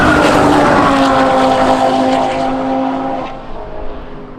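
A Nissan GT-R and an Audi RS3 roar past on a drag strip, a loud engine and exhaust drone close by that fades steadily as the cars pull away.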